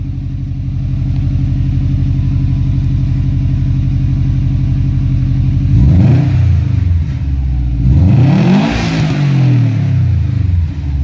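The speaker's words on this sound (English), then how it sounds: "Hit that rev limiter" A 2017 Subaru WRX STI with a full COBB turbo-back exhaust idles with a steady throb, then revs hard twice, climbing up to the rev limiter and bouncing there before dropping back.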